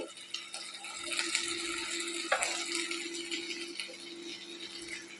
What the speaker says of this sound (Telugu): ఇప్పుడు చికెన్ వేస్తున్నాను. చికెన్ వేసుకున్నాక బాగా కలుపుకోవాలి.